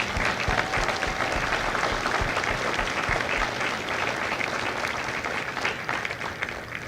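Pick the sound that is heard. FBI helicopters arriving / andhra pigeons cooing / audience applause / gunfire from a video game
audience applause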